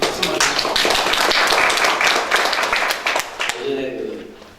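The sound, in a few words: applause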